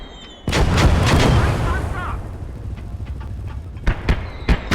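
In a WWII tank battle game, heavy flak artillery fires a loud, close blast, followed by a rumbling decay and several sharper distant thuds.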